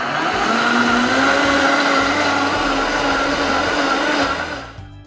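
A Vitamix blender runs on high speed with soapy water inside, a loud steady whirring roar that holds constant for several seconds before cutting off and fading at the end.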